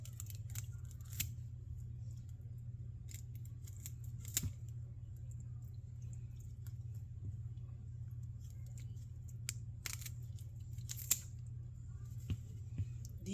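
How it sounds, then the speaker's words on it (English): Cooking scissors snip several times while chicken is being prepared for frying: sharp, faint clicks scattered over a steady low hum, with no talking. "These are my cooking scissors."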